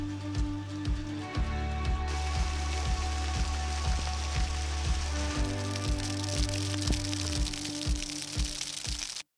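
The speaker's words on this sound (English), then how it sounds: "It's hailing now." Large hailstones fall hard on a surface beside a shipping-container home, a steady dense patter with frequent sharp cracks of individual stones striking, loud and close throughout.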